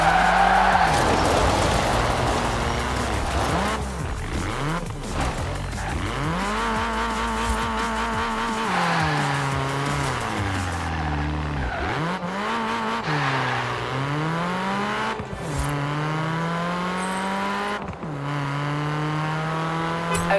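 Tires squeal and skid repeatedly as a car slides under handbrake in the racing game Forza Horizon 4, with the engine revving and wavering throughout, loud and continuous over about twenty seconds.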